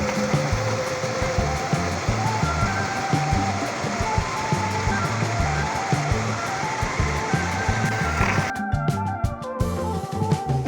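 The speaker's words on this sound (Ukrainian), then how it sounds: "Там, де річка звужується, перетворюючись на струмок, вона звучить по-іншому." A narrowing mountain stream in the Carpathians in winter rushes in a continuous, close, broadband wash of flowing water, steady throughout, with a brief sharp disturbance near the end.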